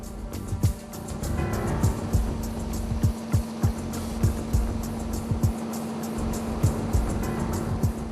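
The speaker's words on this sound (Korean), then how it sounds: "기관실로 들어가 엔진을 점검하는" A 23-ton fishing boat's engine runs in its engine room, a loud steady drone with a constant hum and rapid repeated knocking pulses throughout, no talking.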